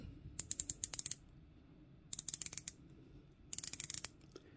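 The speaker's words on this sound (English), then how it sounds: "You can listen to the bezel." Three quick bursts of sharp, crisp clicks from an Aragon Divemaster 42 watch bezel being turned, close and quiet with short pauses between.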